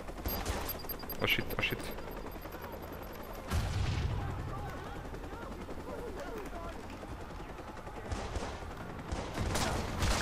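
Gunfire in the Watch Dogs video game: bursts of rapid shots and booms rattle through the opening seconds, then heavy firing continues under a busy mix as a man exclaims in alarm.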